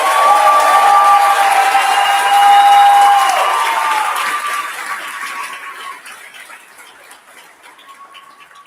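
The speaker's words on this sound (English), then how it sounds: "Let's give them applause." Graduates' audience at the Omak campus ceremony of Wenatchee Valley College claps and cheers loudly for several seconds before the ovation fades into scattered claps and quiet.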